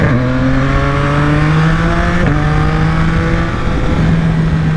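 A Yamaha XSR900 big bike engine revs loud and close, holding a steady droning pitch that dips briefly once and then climbs again, running continuously with no talk over it.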